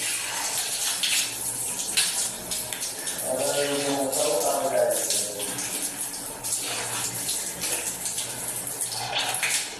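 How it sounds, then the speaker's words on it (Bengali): Water runs steadily from a tap while someone washes their face, with a burst of splashing and cupped-hand sloshing in the middle over a continuous close stream. "দাঁত মাজা হয়ে গেছে, এবার আমি মুখটা ধুয়ে নেবো।"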